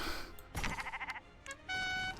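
A wavering, stuttering sheep bleat sounds up close, followed by a couple of shorter bleats, with a bright electronic tone at the end.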